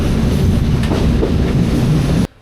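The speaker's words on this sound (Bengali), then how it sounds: "দুরন্ত গতিতে ছুটে চলে এই ট্রেন" Loud, steady rumble of a shuttle train between Rajbari and Kushtia, Bangladesh, moving fast, with rattling carriage noise throughout, cutting off abruptly at the end.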